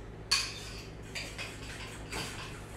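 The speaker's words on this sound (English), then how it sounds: "And then now we mix everything together again" A utensil clinking against a bowl while mixing breakfast ingredients, a few sharp metallic taps and scrapes spaced apart, quiet and close with no talk.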